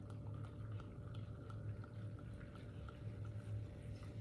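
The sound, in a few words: liquid being poured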